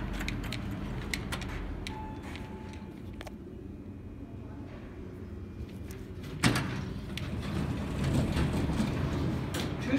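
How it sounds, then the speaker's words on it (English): Two-speed door of a Fujitec freight elevator at a school board building slides open with a sudden loud clunk about two-thirds through, over steady machine hum and rumble. "Two-speed door."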